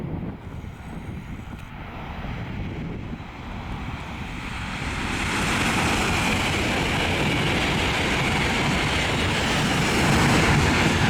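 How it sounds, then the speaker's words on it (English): An LNER Azuma passenger train on a Leeds to London King's Cross service passes a level crossing at Grassthorpe Lane, a steady broadband rush that swells louder halfway through with wind buffeting the microphone. "This is yet another Azuma on a service from Leeds to London King's Cross."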